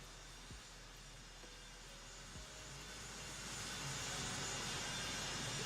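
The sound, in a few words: airplane engine at an airfield in American Truck Simulator video game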